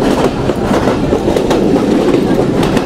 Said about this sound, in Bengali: যে সকল লোকাল কমিউটার ট্রেন রয়েছে তাদের ভিতর এই ট্রেনটি আমার দেখা সবচেয়ে বেশি গতিশীল